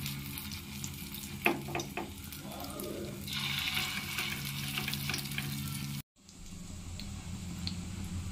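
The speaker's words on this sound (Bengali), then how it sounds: "এগুলো এবারে প্যানকেকের আকারে এবারে শ্যালো ফ্রাই করে নেব।" Pancake-shaped batter shallow-fries in hot oil on a tawa, giving a steady close sizzle with a few light taps, then a brief cut before the frying crackle carries on.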